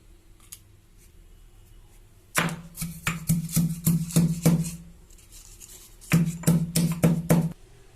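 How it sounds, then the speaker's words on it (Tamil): Rapid bursts of hard knocks, two clustered runs of rhythmic pounding of leaves, ginger and cardamom in a stone mortar, close and loud, separated by a brief pause. "இந்த இலை இஞ்சி ஏலக்காய் இது மூணையும் இடிக்கல்ல போட்டு நல்லா இடிச்சுக்கலாம்"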